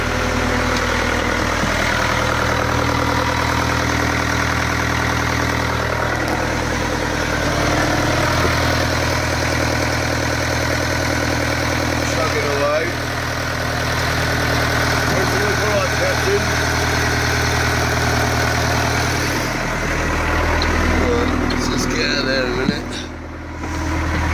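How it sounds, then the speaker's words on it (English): A lorry engine idles steadily at close range with its panels removed, a continuous low rumbling drone lasting over twenty seconds, with people talking over it at times. "Considering it's a lorry engine, it's really quite quiet"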